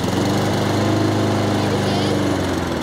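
A Honda lawn mower engine idles steadily at close range, a continuous even putter with no change in pace; a voice speaks briefly over it.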